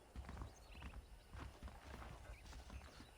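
Horse hooves clip-clopping in Red Dead Redemption, a steady walking rhythm of soft thuds through the clip, with faint neighing and no talk.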